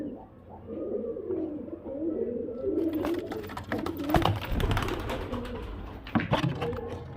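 Quality high-flyer pigeons cooing in low, rolling bursts close by, followed by wing flaps and rustling.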